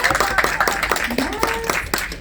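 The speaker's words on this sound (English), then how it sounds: "can we get a round of applause for what a great event this is?" Audience claps at a YouTube Shorts community event, brisk clapping with a few whoops and voices mixed in, fairly close and lively.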